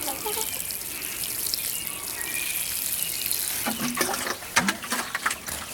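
Water pours and splashes steadily onto soil and plants, the flow growing more uneven and splashy toward the end.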